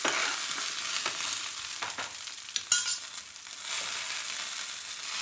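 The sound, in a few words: sautéing shallots and onions in a pan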